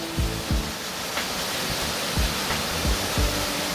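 Yukdam waterfall in Seoraksan, over 40 metres high and dropping into a deep pool, roars in a steady, dense wash, heard from a suspension bridge, with a few dull thumps of footsteps on the bridge.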